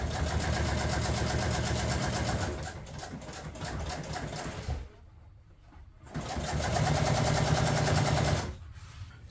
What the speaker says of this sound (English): you could just start sewing